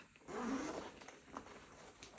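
A concealed back zip on a Wandrd D1 fanny pack is pulled open in one quick, close, rasping sweep, followed by quieter fabric rustling.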